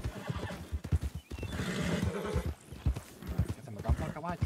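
Horse in the video game Red Dead Redemption 2, hooves clip-clopping at a rhythmic gallop with a whinny midway, heard under a man's speech.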